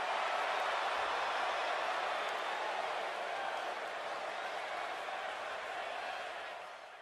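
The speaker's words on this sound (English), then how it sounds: "listen to this rally crowd show their appreciation for such a great match" A large crowd applauds and cheers in a steady, sustained roar that slowly fades toward the end, a wrestling crowd in the video game WWE 2K18.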